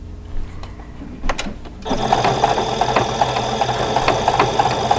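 A sewing machine stitches a fabric face mask, starting after a quiet pause with a few clicks and then running in a steady, close mechanical whir with rapid needle rhythm.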